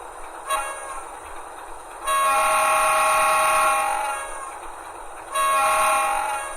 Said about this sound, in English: This model has RVB horns which sound horrible.